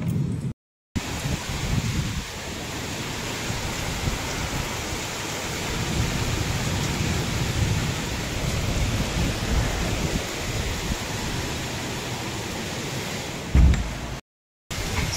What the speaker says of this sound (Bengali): খুব জোরে বৃষ্টি আরম্ভ হয়ে গেছে।